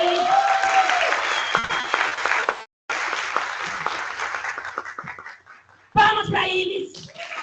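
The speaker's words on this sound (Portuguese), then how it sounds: "palmas para ele." Dense, loud applause from an audience at a mathematics conference opening, briefly cutting out and then swelling again, with voices and cheers mixed in.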